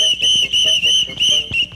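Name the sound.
whistle being blown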